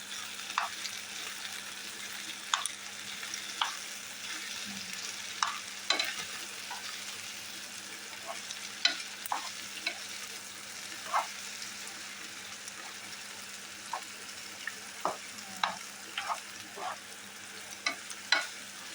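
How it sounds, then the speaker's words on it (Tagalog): Onions sauté quietly in a pan with a soft continuous sizzle, punctuated by scattered sharp scrapes and taps of a spatula stirring at irregular intervals; no one speaks. "Diyan natin isigisa yung sibuyas guys"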